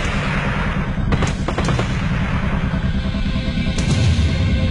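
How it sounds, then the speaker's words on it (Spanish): A terrible explosion during the raid on the Japanese embassy, rendered as a dense, loud roar of blasts with several sharp cracks standing out over a constant low rumble. "una terrible explosión sorprende a todos"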